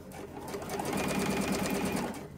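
A sewing machine runs in one steady, rapid whirring burst while stitching a bra cup seam with picot elastic, close and alone.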